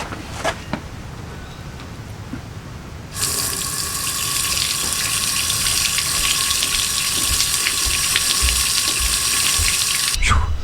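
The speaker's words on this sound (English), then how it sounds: "we just spent the last couple of minutes flushing out those chassis rails" Water from a hose gushes steadily through the chassis rails of a Jeep, flushing out sand; a loud continuous spray starts abruptly after a quiet stretch and runs on alone before cutting off near the end.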